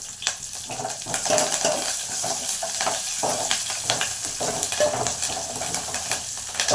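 Chilli, coriander and curry leaves fry with onion in a pan for a chutney, a continuous crackling sizzle with repeated scraping stirs and light clinks of a utensil, close and fairly loud, with no talking.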